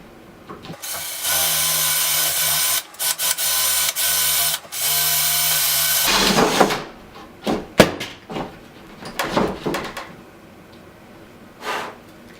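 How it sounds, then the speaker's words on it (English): A power drill whines loudly and steadily for several seconds drilling holes in wooden spools, then stops, followed by a string of clattering knocks and handling noises. "So now we're going to drill the holes."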